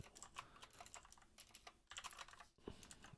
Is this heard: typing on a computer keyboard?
yes